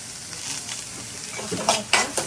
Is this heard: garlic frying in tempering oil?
yes